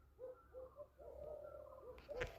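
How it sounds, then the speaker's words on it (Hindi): Repeated soft cooing bird calls on a quiet village morning, low and hollow, a few phrases in a row with a brief knock near the end. "चिड़ियों की चहचहाट सुनाई दे रही है।"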